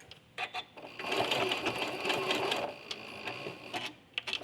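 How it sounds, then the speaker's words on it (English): A sewing machine runs back stitches along quilt binding. Brief stitching bursts lead into a steady, close mechanical whir of a couple of seconds, then stop-start clicks, with no talking. "I'm going to do a couple back stitches to secure my thread"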